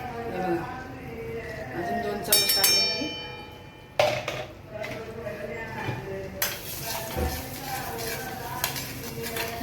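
Semolina (rava) being warmed in ghee over medium heat for mango sheera, with close metallic scraping and clinks of a spoon against the pan under continuous talking.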